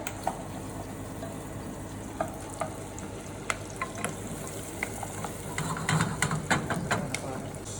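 Onions sauteing in a pan for a stew, a continuous soft sizzle broken by irregular clicks and scrapes of stirring, with a louder burst of frying near the end.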